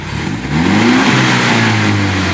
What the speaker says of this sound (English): Got a little bit of that turbo spool in there.